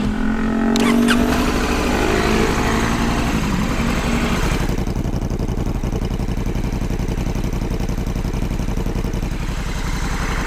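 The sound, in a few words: Honda Africa Twin 1100 motorcycle engine starting and idling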